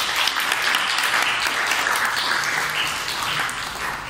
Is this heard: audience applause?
yes